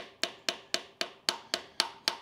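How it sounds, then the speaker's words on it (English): A steel hammer taps the distributor drive gear on an 80 Series Land Cruiser engine, eight sharp, evenly spaced metallic knocks at close range with short ringing decays and no talk. "So I'm just giving this a couple taps"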